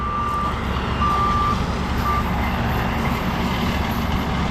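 Skid steer running a mulcher, its engine a steady loud rumble under intermittent high reversing beeps, with no talking.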